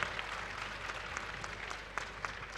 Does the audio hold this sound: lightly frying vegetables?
no